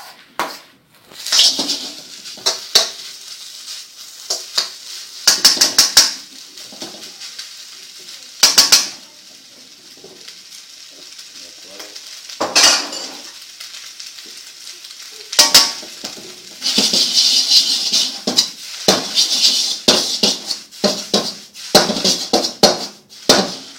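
Pork sizzles and fries in a red-hot wok, stirred with repeated sharp metallic scrapes and clanks of a utensil against the pan over a steady hiss, close and fairly loud, with no talking.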